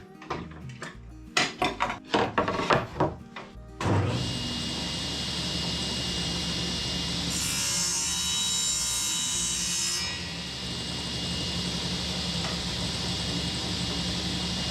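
A saw cuts wood for a workbench shelf, guided by a miter gauge. A few short knocks and handling sounds come first, then a loud, steady whining cut runs unbroken to the end.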